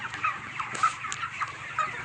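A flock of 30-day-old broiler chickens clucking softly and continuously, many overlapping calls close by with no talking.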